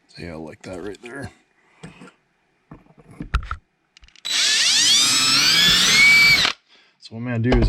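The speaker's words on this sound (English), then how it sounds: "I'm going to just drill 1 hole for now." A drill whines steadily for about two seconds, boring a single hole for an anchor screw in a DIY kayak battery box, loud and close, with a person talking before and after.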